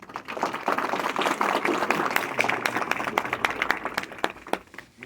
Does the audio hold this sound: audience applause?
yes